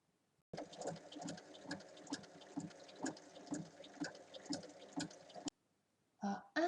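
A sewing machine stitches across a bag seam in one continuous run of about five seconds, its needle thumping in a quick, slightly uneven rhythm close by. It stops abruptly, followed by a brief pause and a short clunk of handling.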